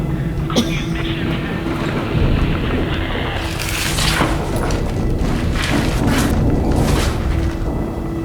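A TV-drama explosion in a prison sally port: a sharp boom followed by a sustained heavy roar and rumbling debris, loud and continuous, with rushing noise like falling rubble and rain, under faint voices.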